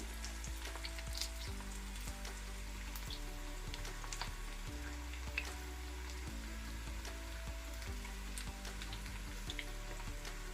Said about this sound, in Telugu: ఇలా మీడియం ఫ్లేమ్ మీదైనా వేయించుకోవాలి